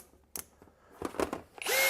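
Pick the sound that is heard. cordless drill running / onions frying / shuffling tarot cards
cordless drill running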